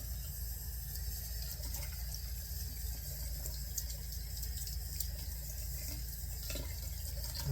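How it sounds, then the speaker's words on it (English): Running tap water rinses a synthetic Frank Shaving G5 shaving brush under the faucet, a steady close gush that holds even and unbroken with no talk. "Let me wash this brush out a little."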